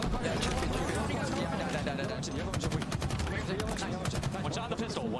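Rapid bursts of Halo video game gunfire crackle continuously over dense background noise during a championship match, with talking mixed in throughout.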